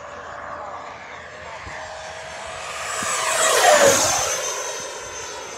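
An FMS Avanti S V3 70mm ducted-fan RC jet flies past, its whine swelling to a loud close pass and then easing off, over faint outdoor background noise.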